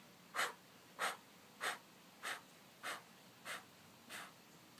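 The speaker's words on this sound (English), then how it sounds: "inhale smoothly and deeply through the nose, and exhale in eight equal forceful parts through the mouth, through a rounded mouth" Forceful breathing exercise: a series of sharp, evenly spaced puffs of breath pushed out through a rounded mouth, seven bursts in steady rhythm, close and clear, fading slightly toward the end.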